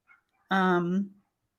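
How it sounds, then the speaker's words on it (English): A single drawn-out yelp from a small dog, high and whiny with strong harmonics, lasting under a second, preceded by a faint brief sound. "I don't know if y'all can hear my little Pippi barking."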